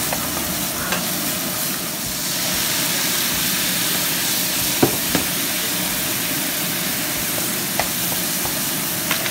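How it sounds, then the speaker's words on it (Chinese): Beef and clams stir-frying in black bean sauce with shallots and garlic, a loud, steady sizzle with occasional faint clinks of a utensil stirring in the pan, and no talking. "爆香佢。"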